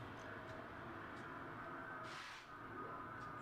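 BNSF freight trains passing on the Santa Fe and Burlington lines, an over-under meet, a steady broad rumble and rail rush continuing throughout with a brief hissing burst midway, heard from trackside with no talk.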